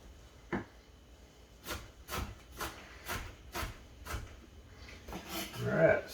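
Knife chopping diced tomato, onion and pickles on a cutting board while prepping hot dog toppings, a run of about eight sharp, evenly spaced thuds growing slightly louder toward the end, close and with no talk.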